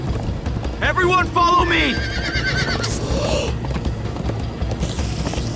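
Horses gallop with steady clip-clop hoofbeats and a whinny in the video game Minecraft: Story Mode, while a character's voice shouts over the running hooves and game music.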